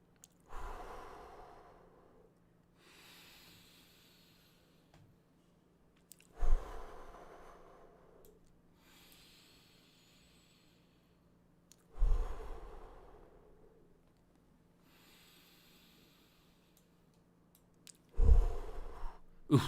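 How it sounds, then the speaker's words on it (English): Slow, controlled breaths paced by an Apple Watch breathe app: four long exhalations, each starting with a sharp rush of air and fading out over several seconds, close to the microphone, with quiet pauses between. "I will now stabilize it by breathing"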